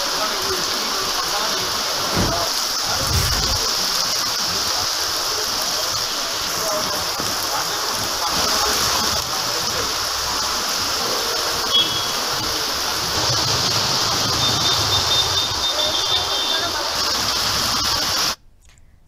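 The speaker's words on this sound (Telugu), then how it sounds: "సో హైదరాబాద్లో వర్షం దంచి కొడుతోంది" Heavy rain pours down in Hyderabad, a loud, dense and continuous hiss of rainfall on surfaces that runs steadily for almost the whole clip before cutting off abruptly.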